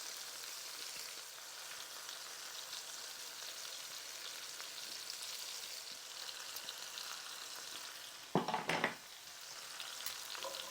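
Minced garlic and pork chops fry in butter in a pan, giving a steady soft sizzle throughout, with a brief louder clatter of stirring near the end.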